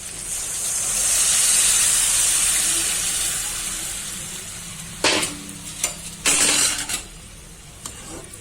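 Eggplant, onion and garlic hiss and sizzle steadily in a hot pan, followed by a few clattering stirs and scrapes near the end.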